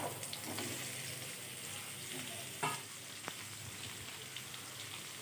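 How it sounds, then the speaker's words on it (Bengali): Cut bottle gourd drops into hot oil tempered with panch phoron in a kadai, giving a faint, steady sizzle with a few soft clacks of stirring, with no voices. "এখন আমি কড়াইতে যে তেলটা আছে তার মধ্যে আমি পাঁচ ফোড়ন দিয়ে দিলাম আর এখন কেটে রাখা লাউটা আমি দিয়ে দেব"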